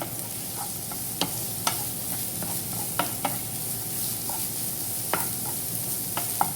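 Chopped onions sizzle steadily in a hot pan while a spoon stirs them for a tahini cauliflower dish, the constant frying hiss broken by a scattering of sharp scrapes and taps against the pan.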